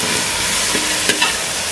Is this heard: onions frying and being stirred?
yes